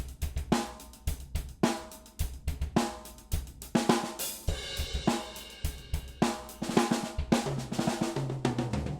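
A fast, busy drum pattern with rapid kicks, snare and cymbals rolling continuously, loud and close with no talking.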